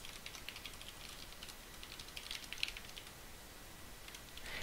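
Faint, steady typing on a computer keyboard while entering a line of code, with soft clicking keystrokes running continuously at low level and no voices.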